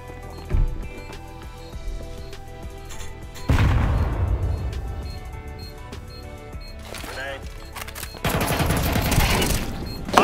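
A grenade explodes in Counter-Strike 2 as a loud burst that rumbles and fades, amid several other sharp game shots and blasts, with a second heavy burst near the end and voices talking over the action.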